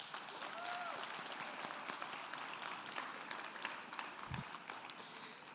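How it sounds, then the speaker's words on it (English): Staff audience at a fall staff assembly applauding, with steady, dense clapping from a large group that holds evenly throughout, and a few voices faintly audible within it. "So please take a moment to give yourselves a round of applause."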